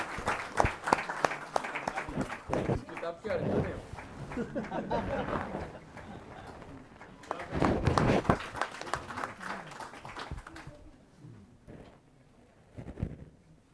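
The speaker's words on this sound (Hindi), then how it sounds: "मैं चाहूँगा ज़ोरदार तालियों से आप इनका स्वागत करें" Audience applause welcoming a guest at a Hindi book launch, uneven clapping from a modest crowd that swells, dips and rises again before thinning into scattered claps, with voices mixed in at moments.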